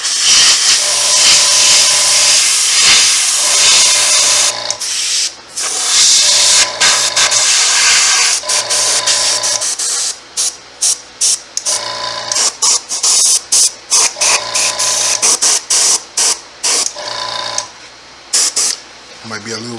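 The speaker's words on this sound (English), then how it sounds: "add a little bit more of color right straight to my airbrush" An airbrush sprays paint onto a latex skinned-face mask in repeated short bursts of steady hiss. The bursts come in starts and stops over a tonal background, and a voice may be present.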